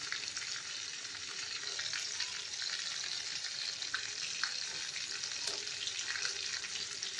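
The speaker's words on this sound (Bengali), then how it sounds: "মাছটা ভাজার সময় খুব ফোটে" Magur fish frying in hot oil for a Bengali fish curry, a dense, even crackling sizzle with scattered sharp pops and spatters, close up and continuous with no voices.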